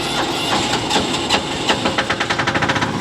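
Auxiliary power unit on an M1070 HET truck starting up and settling into an idle, a loud close engine rumble with rapid rhythmic pulses that quicken toward the end.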